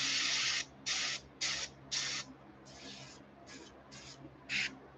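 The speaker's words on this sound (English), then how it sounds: "This is just spraying like" Bursts from a paint spray gun airbrushing red dots onto a crawfish-pattern fishing lure, about eight short hissing blasts of uneven length with brief pauses between them, close and fairly loud over a faint background hum.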